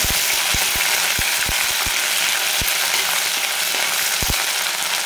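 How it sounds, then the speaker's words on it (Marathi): Ginger-garlic paste dropped into hot oil in a kadhai gives a loud, dense, continuous sizzle with scattered sharp pops and crackles, close up and steady for the whole stretch. "नंतर हे जे आपण आलं लसणाचं वाटून घेतलं होतं ते टाकून घेऊ।"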